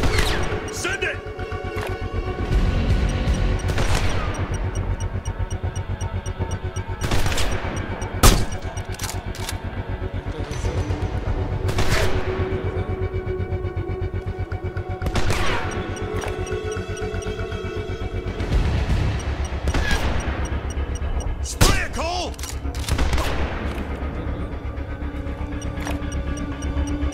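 Sniper shootout gunfire in Sniper Ghost Warrior 2, sharp loud rifle cracks and bursts repeating irregularly through a continuous battle din, with voices calling out between shots.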